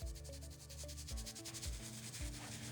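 A soft-bristle brush scrubs dampened, soapy solution-dyed sofa fabric in steady back-and-forth strokes, a close, continuous rubbing rasp at moderate level, alone with no talk.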